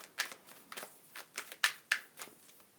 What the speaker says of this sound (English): I'm going to keep shuffling just for one card